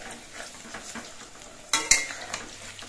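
Pumpkin fritters frying in hot oil are turned over: a low, steady sizzle runs under soft utensil scrapes, with two sharper clatters and a burst of crackle as the fritters are flipped.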